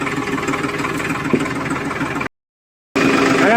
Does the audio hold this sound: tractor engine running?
yes